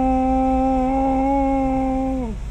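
A voice imitates the humming drone from the rear axle of a Toyota Unser with a faulty axle gear: a steady sustained hum that holds level for about two seconds, then drops away at the end.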